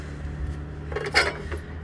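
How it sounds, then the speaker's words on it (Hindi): Kitchen pots, dishes and utensils being handled for cleaning: a brief metallic clatter of clinking and knocking, fairly close, over a steady low hum. "यहाँ पर हम सारे बर्तनों को साफ़ करेंगे।"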